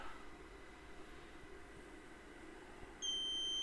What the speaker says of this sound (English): Here's the beep.